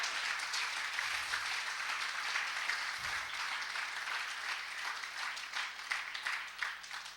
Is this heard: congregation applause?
yes